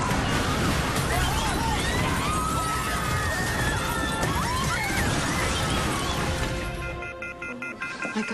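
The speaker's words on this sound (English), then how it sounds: "I think their bus crashed." A bus crashing, heard as a loud, chaotic burst of smashing and scraping with shrill squeals over a constant roar, fading abruptly near the end into a lower, uneven rumble.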